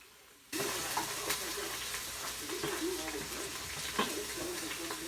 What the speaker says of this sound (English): now I'm going to add our vegetables, and it'll sizzle like crazy